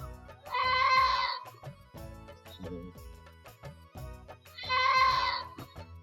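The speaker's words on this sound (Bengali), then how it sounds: "বেশি দেরি করলে ছাগলের ডাক আরো কাছে চলে আসবো" A goat bleats twice, loud and close, each call lasting about a second, with a quieter cry between them over a background of music.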